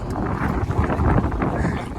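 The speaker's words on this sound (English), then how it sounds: "It's windy." Outdoor wind buffeting a microphone on a cold night, a steady loud rumbling roar with gusty fluctuations that fills the whole moment.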